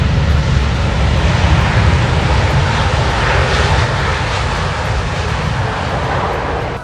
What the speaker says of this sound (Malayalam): ഇത് സിംഗപ്പൂർ എയർലൈൻസിൻ്റെ 14 വർഷം പഴക്കമുള്ള 380 വിമാനമാണ്.